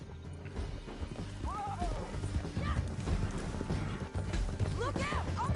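Horse hooves clip-clop steadily through a chaotic Red Dead Redemption 2 scene, partly masked by game noise, with a neigh or whinny and a shouted voice over the top.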